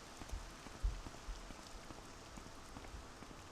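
Rain falls steadily in the game Morrowind as a faint, even hiss with a few soft low thumps early on, continuing on its own without any voices.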